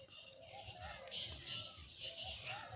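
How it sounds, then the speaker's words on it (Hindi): Birds sing outdoors in the morning, with bright, repeated chirps and tweets in short bursts, moderately faint, alongside a person talking. "ये देखो पक्षियों की आवाज़ कितनी शानदार आ रही है"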